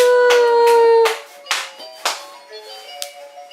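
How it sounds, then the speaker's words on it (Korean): A few people clapping in a room over a music toy's melody: several sharp, distinct claps spaced about half a second apart, while a bright tinkling tune plays on alongside them. "박수!"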